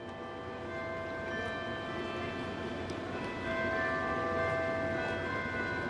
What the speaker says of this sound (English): In front of the terminal, you can hear the bell doing ding dong.